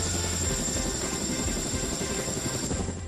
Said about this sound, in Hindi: रीयूजेबल लॉन्च व्हीकल पुष्पक के इस परीक्षण के लिए एयरफोर्स के चिनूक हेलीकॉप्टर को चुना गया